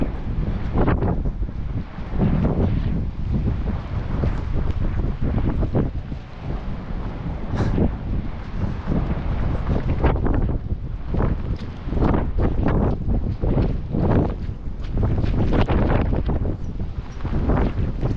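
Strong gusty wind buffets the microphone on a coastal cliff walk near Bude, a loud continuous roar that swells and eases for the whole stretch, with no voices.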